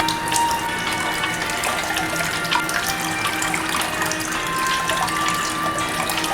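Water runs steadily from a sink tap while someone washes their face, a continuous close splashing flow with light clinks and no talk.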